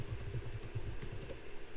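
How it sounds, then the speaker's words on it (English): Rapid typing on a computer keyboard, close and fairly quiet, a busy irregular patter of key taps running continuously with no voices. "I'm typing!"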